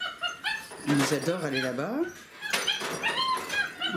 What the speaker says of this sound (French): vous allez entendre les chiots pleurer pour passer de l'autre côté de la barrière